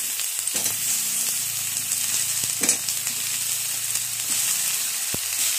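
Potatoes frying in a pan, a continuous close sizzle with scattered pops and crackles and a low hum underneath, no talking.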